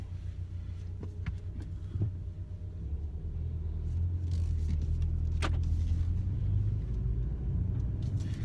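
A 2016 Ford Focus RS engine rumbles steadily as the car pulls away, a low throbbing drone that swells slightly louder midway, with a few faint clicks and no talking.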